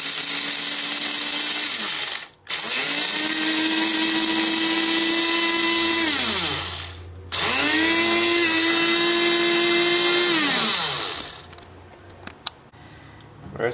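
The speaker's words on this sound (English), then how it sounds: "I'm just going to grind that up nice and fine." An electric spice grinder runs loud and close, whirring as it grinds pepper, garlic and salt, with two short stops before it winds down near the end.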